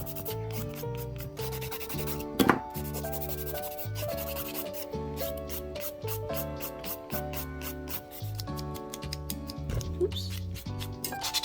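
A 180-grit nail file shapes and buffs fingernails in quick, repetitive rasping strokes, heard close but partly buried under continuous background music.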